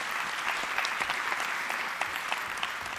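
A theater audience applauding after a volunteer returns to their seat at a live show, dense steady clapping throughout, moderately distant and fairly quiet.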